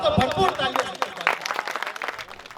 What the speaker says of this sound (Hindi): दोस्तों भरपूर तालियां।